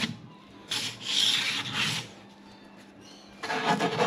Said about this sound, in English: Sand along the edges,